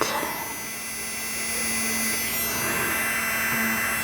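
Steady suction hum from a Caydo wireless diamond painting e-pen, a soft continuous whir with a faint tonal drone, held close and unchanging throughout with no talking.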